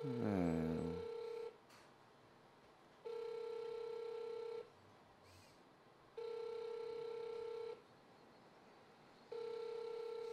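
An unanswered telephone call, its ringback tone sounding four times in evenly spaced long beeps with quiet gaps between, heard clearly at moderate volume.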